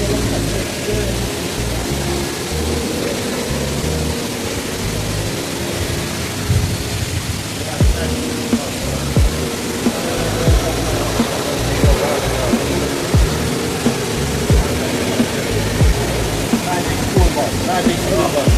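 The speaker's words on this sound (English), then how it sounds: "Does it sound like water? Like rain." Steady rushing water at a scenic outdoor spot, a dense continuous hiss much like heavy rain, with scattered louder splashes and people talking over it.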